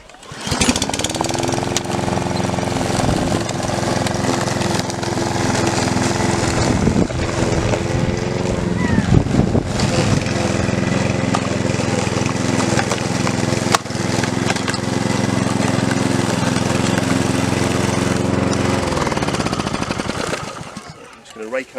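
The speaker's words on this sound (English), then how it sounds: "So we get on with some mowing" A lawn mower engine drones steadily while cutting grass in a garden being cleared for wildflowers, loud and continuous for about twenty seconds before cutting off at the end, with faint voices underneath.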